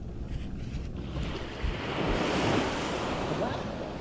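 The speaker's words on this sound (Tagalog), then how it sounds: "dito na muna tayo sa dagat" Sea waves wash steadily onto a beach, a broad surging rush mixed with gusty wind buffeting the microphone, building slightly louder midway.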